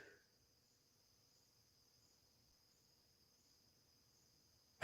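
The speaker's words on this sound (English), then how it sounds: "there are a lot of crickets right outside my window doing their thing" Crickets chirping right outside a window on a night after heavy rain, a steady faint high-pitched trill running continuously in the background with no talk.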